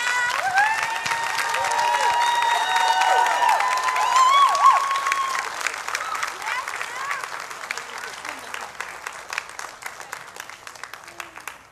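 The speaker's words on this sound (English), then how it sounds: "So, again, yes, big hand clap." A church congregation applauds; a steady wash of clapping builds and then thins into scattered claps, with voices heard over the start.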